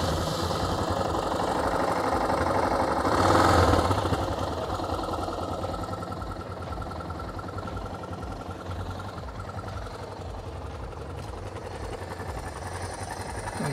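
A 2002 Yamaha XT 600E motorcycle idles close by with a worn exhaust, giving a low, steady, lumpy rumble that swells briefly, then settles into an even idle.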